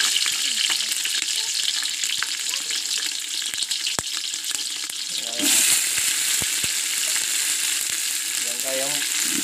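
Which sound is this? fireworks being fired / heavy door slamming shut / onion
onion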